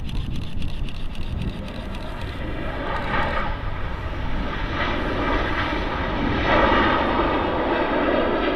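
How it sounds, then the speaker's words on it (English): A Ryanair airliner arrives at Manchester on a gusty day, its jet engines giving a loud, airy roar that builds gradually and peaks near the end, close by. "Another very smooth arrival there from the Ryanair"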